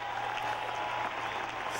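An arena crowd applauds Paul Hamm's floor routine at a men's gymnastics all-around final, steady dense clapping held at an even level throughout.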